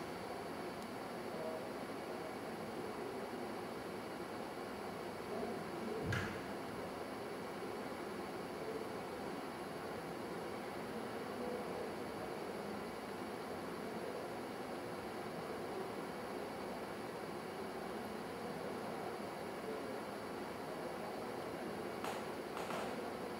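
A Common Rail Spin CR-4 test stand runs its pump with a steady, moderately loud whirring hum and hiss that never changes, broken only by a brief click-like transient near the middle.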